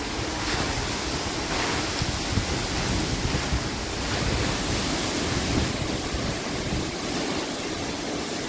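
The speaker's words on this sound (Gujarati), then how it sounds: "બહુ પવન છે આજ તો મિત્રો." Strong wind gusts sweep through during a light rain shower in a small storm, a steady, loud roar of rushing air with no speech.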